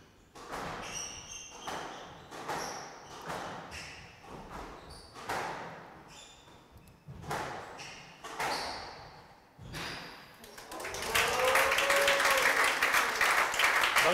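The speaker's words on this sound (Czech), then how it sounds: "početné obecenstvo odměňuje potleskem" A large audience at the Czech Open 2023 finals applauds a long rally, heard after a series of sharp ball and racket impacts, the clapping swelling loud and dense at the end.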